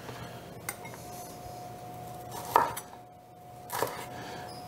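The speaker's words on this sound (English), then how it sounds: "We're going to cut off the bottom, take off a couple of leaves" A knife trims the bottoms off Brussels sprouts on a board, with a few separate crisp cuts and clicks over quiet room tone and a faint steady hum.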